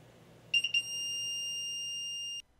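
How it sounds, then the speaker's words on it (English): A temperature sensor's electronic buzzer, set off by lighter heat, sounds a few short stuttering beeps, then holds one steady, shrill high-pitched tone for nearly two seconds before cutting off abruptly. "the buzzer goes off loudly"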